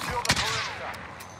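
Gunfire in the Warzone video game at a military base, a loud burst of shots up front followed by fading echo and scattered distant pops, with no voices.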